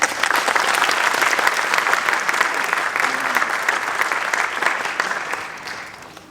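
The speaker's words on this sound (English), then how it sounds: "A round of applause, please." Loud, sustained applause from a large crowd at a school awards ceremony fills the room, dense clapping that gradually tapers toward the end.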